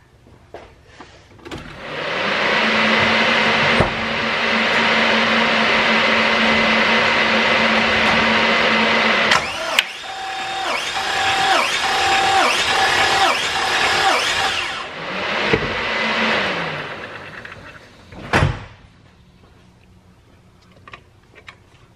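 A car engine cranks on the starter during a cylinder compression test on an engine suspected of antifreeze in the oil, a loud steady whirring crank in two long bursts with clicks between and sharp snaps at the start and end.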